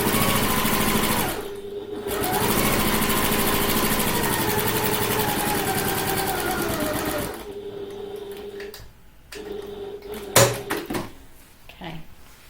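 A domestic sewing machine stitches a handbag lining, running steadily near and loud for several seconds, pausing briefly, then continuing before trailing off into a few clicks and handling knocks.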